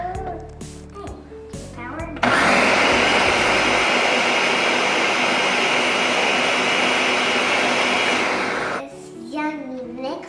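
An electric mixer whirs loudly and evenly through crepe batter for several seconds, with voices talking just before it starts and again after it stops.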